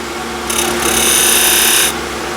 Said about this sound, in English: With small skew, I'll undercut the tenon or the recess, remove the sharp corner